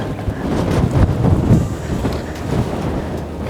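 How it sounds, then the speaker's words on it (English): Strong wind buffets the microphone at a telescope site on Hawaii's Big Island, a loud continuous roar with gusty surges and no voices. "I don't think anything can shield us from this wind."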